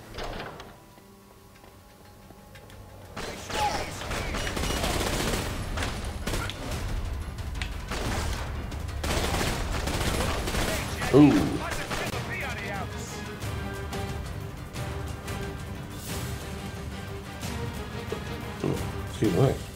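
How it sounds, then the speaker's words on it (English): Spaz 12 shotgun blasts from The Darkness video game, a series of loud booms and impacts over a busy game soundscape, with two people talking throughout. "you are shotgunning this dude with a Spaz 12"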